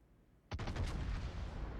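Naval gunfire in the World of Warships video game: one sudden loud boom followed by a rolling, reverberant rumble that sustains to the end, no talking.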